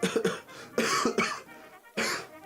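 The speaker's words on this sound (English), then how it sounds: "Sorry for the cough." Someone coughs several times up close, in harsh rasping bursts separated by short pauses.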